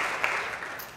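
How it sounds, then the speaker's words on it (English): A church congregation giving a short burst of clapping in praise during a morning service, a brief wash of hands fading quickly, fairly soft and reverberant. "One good hand clap of praise this morning"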